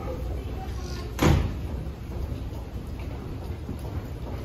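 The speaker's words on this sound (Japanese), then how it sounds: "Please stand clear of the closing doors" Tokyo Metro Tozai Line train doors at Minami-Sunamachi station during the morning rush, shutting with a single sharp thud amid steady platform rumble and faint murmuring voices.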